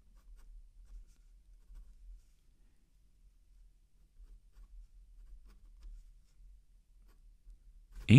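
Quiet, soft scratching of a fountain pen moving across paper in short strokes, close and faint, with a brief sharp sound at the very end.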